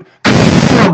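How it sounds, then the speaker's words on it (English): A single loud gunshot from the video game Squad cracks after a brief quiet moment and rings on in a sustained, booming burst. "You're gonna shoot."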